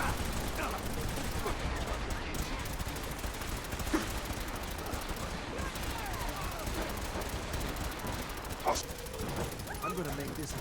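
Dense video game gunfire in a battle, rapid bursts and scattered shots crackling continuously over a loud, noisy background, with a couple of sharper reports standing out.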